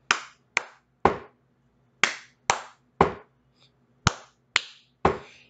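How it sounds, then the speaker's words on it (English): Crisp hand claps close by in a steady patterned rhythm, about ten sharp hits in short groups with brief pauses between, each with a quick decay and no talking. "And finally, clap."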